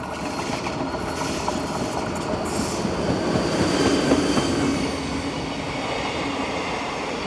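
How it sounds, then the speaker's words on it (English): A train rolls through a station on Austria's Salzkammergutbahn with a steady, loud rumble of wheels on rail, faint squeals and clicking joints running throughout. "The train lays over in the station for around 10 minutes before returning north as the 1504 service"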